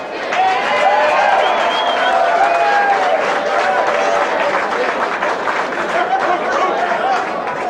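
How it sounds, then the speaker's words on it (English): A crowd at a 1995 Maxon Grand Prix applauds the racers, loud continuous clapping mixed with cheering and chatter from many people. "they all deserve a round of applause"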